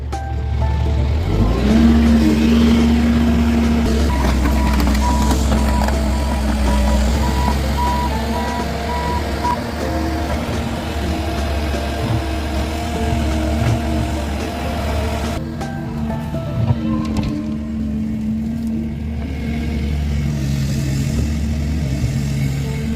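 A CAT 310 excavator's diesel engine starts up and settles into a steady, loud idling rumble, with a sharp mechanical tone near the start and a continuous low drone that runs for the whole stretch.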